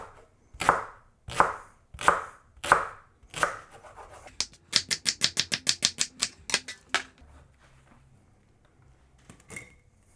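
A knife chops leek halves into quarter-inch half moons on a cutting board: a few slow, crisp knocks, then a fast, even burst of close chops that trails off into faint handling sounds.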